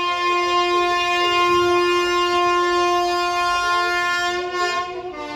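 A loud, sustained train horn blares steadily for several seconds, rich and tonal, fading slightly at the end.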